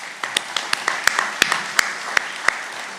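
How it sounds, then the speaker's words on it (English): A small audience at an electric cooperative's 2025 annual meeting claps briefly for Brian Seals, giving a short burst of scattered, uneven claps in a room. "Let's give Brian Seals some applause."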